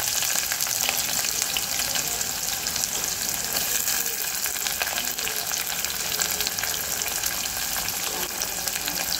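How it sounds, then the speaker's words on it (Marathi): Chopped onion frying in oil with whole spices for a jackfruit biryani, a dense, even, close-up sizzle that holds steady for the whole stretch with faint stirring underneath. "आता यामध्ये आपण कांदा टाकायचा आहे. हा कांदा चिरलेला टाकून घेते."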